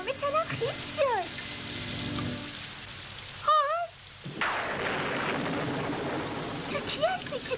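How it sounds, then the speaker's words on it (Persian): Steady rain pours down throughout, with voices speaking over it in short, excited bursts. "وای خودت جون، چه رگباری، تمام تنم خیس شد."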